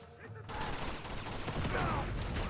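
Rapid gunfire bursts in the video game Uncharted 2, a dense continuous fusillade of shots that starts abruptly after a short quieter lead-in and holds steady throughout.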